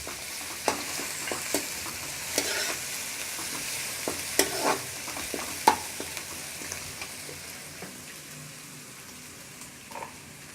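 Garlic-ginger paste fries with onions in a pan, a soft steady sizzle broken by scattered clicks and scrapes of stirring, fairly quiet and fading slightly toward the end.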